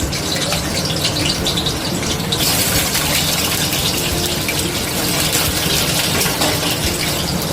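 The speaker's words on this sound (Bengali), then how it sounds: "তেলটা গরম হয়ে গেছে, এবার আমি আলুগুলো ভেজে নেব হালকা করে।" Potatoes fry in hot oil, a dense, steady hiss and sizzle that stays loud and continuous throughout, with no voices.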